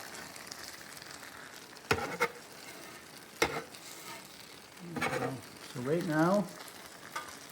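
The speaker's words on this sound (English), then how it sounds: "With some of this sugar starting to come out, I'm just going to kind of move it back in with that scraper that I have." A scraper pushes caramelizing lemon sugar back on a hot griddle, giving a steady sizzle with a few sharp scrapes and clatters. A brief voice and a warbling tone come near the end.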